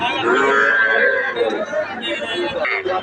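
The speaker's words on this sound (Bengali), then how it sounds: "শাহিওয়াল জাতের বাছুর" Sahiwal calves moo loudly and close, long drawn-out calls overlapping with the murmur of people chattering nearby.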